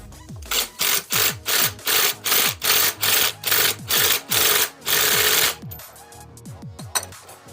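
An impact wrench with a thin-wall 17 mm socket seats a motorcycle flywheel. It fires about a dozen rapid, evenly spaced bursts of hammering, then one longer burst, and the clip ends with a few scattered clanks.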